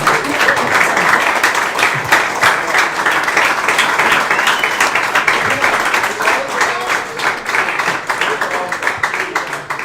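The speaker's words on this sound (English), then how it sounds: "Can we clap it up for Dan and Chris?" Applause for boys' soccer coaches Dan and Chris at a team gathering at a pizza restaurant, a steady, full crowd clapping continuously for about ten seconds.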